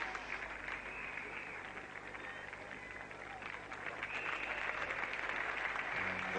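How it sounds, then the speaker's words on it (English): Cricket crowd applauding a fielder's chase and save during a 1980 England versus West Indies Test match, a steady broad wash of clapping from a distant crowd that holds throughout with no break. "the applause for Failed Bacchus"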